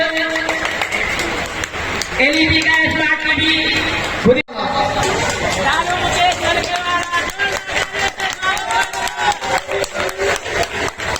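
At a Diwali bumper prize ceremony in Delhi's Azadpur wholesale market, a crowd breaks into rapid, scattered clapping that builds in the second half, while an announcer speaks over a noisy, chattering gathering.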